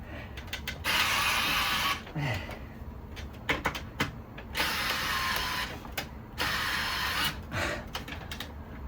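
An electric screwdriver motor runs at maximum under heavy load, whirring in three harsh, loud bursts separated by short clicks and mechanical rattles.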